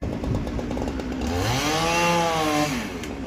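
A Husqvarna chainsaw cuts down a tree, its engine rising in a loud, sweeping rev as the chain bites into the trunk, then easing back, close and continuous.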